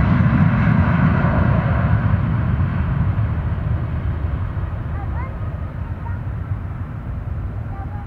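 A JetBlue airliner departing Austin Bergstrom airport roars loudly at first, its engine noise then fading gradually as it moves away, with faint birdsong in the background.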